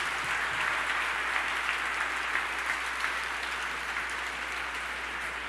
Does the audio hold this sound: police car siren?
no